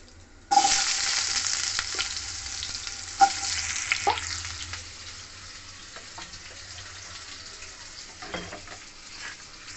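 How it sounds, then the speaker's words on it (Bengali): Potatoes dropped into hot oil with asafoetida for a vegetarian pumpkin chokka burst into a loud, sustained sizzle, with occasional clinks and scrapes of stirring over the steady frying hiss, close by and with no voices. "এটাকে আমি ভালো করে ভেজে নেবো"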